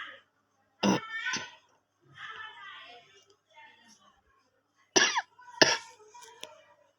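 Several sharp, harsh coughs come in bursts, separated by quiet pauses and some soft sounds, close to the listener.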